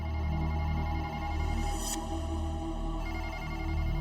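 A telephone bell rings steadily and continuously at moderate loudness, with no voices over it.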